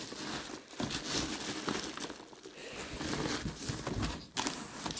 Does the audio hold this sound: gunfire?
no